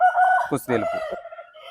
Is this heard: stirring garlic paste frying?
no